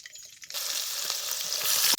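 Finely chopped onion drops into hot oil with mustard seeds and cumin, setting off a sudden loud, steady sizzle that continues close by and swells slightly toward the end.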